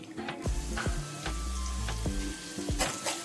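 Chopped onions fry in hot oil for a noodle dish, a steady close sizzle broken by several sharp clinks and scrapes of a utensil stirring the pan, with no talking.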